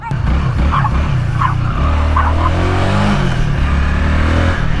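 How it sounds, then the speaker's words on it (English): A small dog barks and yips three or four times, sharp and close, over the steady hum of a Honda Rebel 300 motorcycle engine. A voice is faintly present. "That dog's cute. I like that dog."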